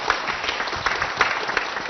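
Church congregation applauding to welcome a deacon's wife to the front, a steady crowd of clapping hands with a few sharper claps standing out, full and close, no talking.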